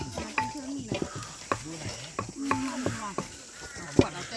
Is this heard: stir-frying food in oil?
yes